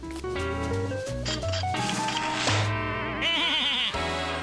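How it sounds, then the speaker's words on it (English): A cartoon sheep's strained, bleating cry, warbling and wavering in pitch, loud and close, with a raspy wheezing texture toward the end. "A strange sheep-like creature is wheezing at me."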